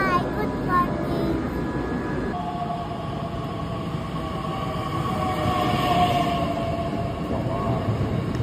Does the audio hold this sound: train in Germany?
yes